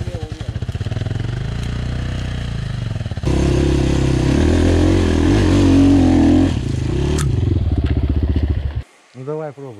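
Honda-style 250cc quad bikes revving and churning off-road near a black lake, engines loud and close with rising throttle surges, then cutting off as a voice speaks briefly at the end.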